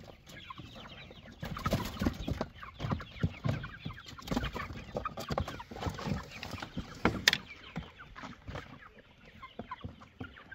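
Australorp hens in a poultry yard cluck and murmur in scattered bursts at close range, fairly soft, with no talking.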